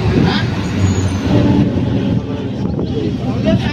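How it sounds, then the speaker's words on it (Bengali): A Lalgola MEMU special train rolls steadily onward after pulling out of a station, a loud continuous rumble of wheels and carriage noise close by, with voices faintly mixed in. "কালীনারায়ণপুর দিয়ে ট্রেনটা ছেড়ে দিয়েছে।"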